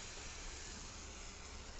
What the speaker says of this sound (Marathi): आता ही आपण फोडणी चटणीवर टाकून घेऊ